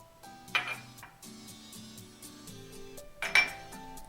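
Ingredients for a peanut sauce with rice wine vinegar and peanut butter are stirred together in a bowl at a campsite, giving soft clinks and scraping of utensil against dish, with two sharper clatters.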